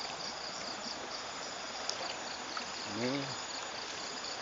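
Clear, unpolluted stream water at Kampung Citiru, Banjar Sari, flows with a steady broadband rush that fills the whole scene, and a voice briefly speaks over it near the end.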